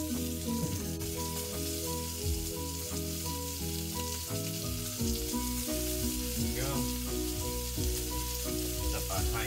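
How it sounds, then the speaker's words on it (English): NY strip steak searing in a hot pan, a loud steady crackling sizzle that runs unbroken throughout, layered with a faint tonal hum in the background. "while my steak is searing"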